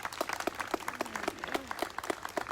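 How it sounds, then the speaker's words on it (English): Scattered clapping from an audience at a boys' conference, greeting current football team players as they stand; a modest, fairly quiet round of claps with a voice briefly audible underneath. "Please give me a round of applause."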